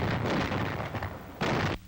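A 90 mm antiaircraft gun fires in heavy, broad blasts, one sustained roar followed by another sharp loud burst near the end, with no talk.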